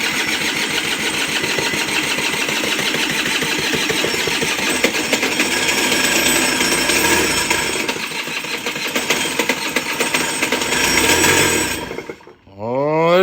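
A 50cc Honda Aero50 scooter engine from a barn find cranks and sputters loudly and close, a steady rapid mechanical chatter that stops abruptly near the end.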